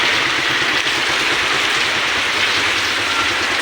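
Steady, dense rain hisses throughout, a constant loud wash of falling water with no pauses.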